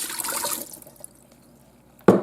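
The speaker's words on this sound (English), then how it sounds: "let's get a cup of water in the Ninja Foodi" A cup of water poured into a Ninja Foodi pressure cooker makes a brief rushing splash that fades within about half a second, followed by faint drips and a sudden sharp knock at the end.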